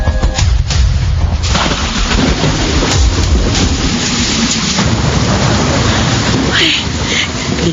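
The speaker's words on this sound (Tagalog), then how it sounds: "Tuloy, inabot ako ng ulan." Heavy rain and rolling thunder from a thunderstorm sound effect in a Filipino radio drama, a loud, steady downpour with deep booms throughout and no voices.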